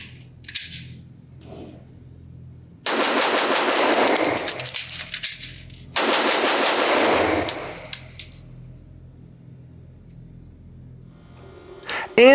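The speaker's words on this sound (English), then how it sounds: "hopefully this trigger, which I'm getting used to, I can shoot kind of fast" A Sig Sauer P320 Spectre Comp compensated pistol is fired at a range in two rapid strings of shots, each a dense, loud burst lasting a few seconds, with quiet handling noises around them.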